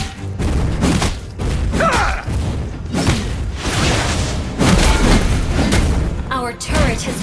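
Loud booming game explosions as an enemy turret is destroyed in a multiplayer battle video game, several heavy thuds and blasts in quick succession amid dense combat noise, with announcer-style voices and player talk layered throughout.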